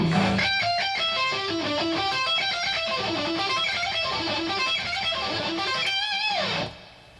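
A fast picked lick on distorted electric guitar runs through rapid cascading notes, ending with a bend before cutting off; loud and upfront.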